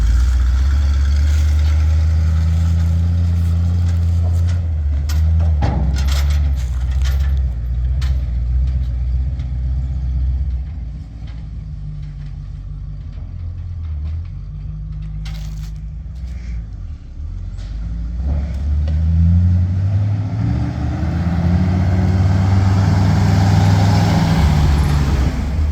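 A Chevy C50 truck engine idles loud and close, rising in bursts as the gas is fed, then settling back to a low rumble before revving up again toward the end.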